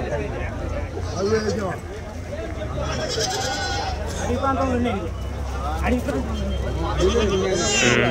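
Goats and young rams bleat repeatedly at a busy village livestock market, several calls overlapping near and farther off over a steady hum of crowd chatter.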